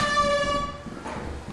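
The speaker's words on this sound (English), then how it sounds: "Stop using the air horn." An air horn picked up in the game Lethal Company blares a steady harmonic honk that fades after about half a second and leaves a dull in-game room tone.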